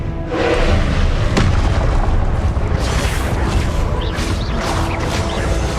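A loud Confringo blast spell detonates in Hogwarts Legacy, a deep booming explosion followed by a sustained, crashing rumble with scattered debris-like crackles.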